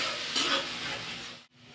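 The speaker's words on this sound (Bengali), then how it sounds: "ভালো করে কষিয়ে নেব।" Turmeric, chilli and cumin powders with a little water are stirred and sautéed in a pan, giving a close, steady sizzle with a scraping stir near the start and a brief cut near the end.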